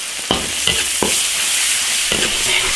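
Pig brains being stir-fried in an iron wok with oyster sauce, soy sauce and chili oil give a loud steady sizzle, broken by several sharp spatula scrapes and clacks against the pan.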